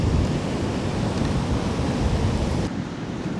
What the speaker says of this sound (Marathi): बघूस तर पाणी लय मोठे लाट आहे त्या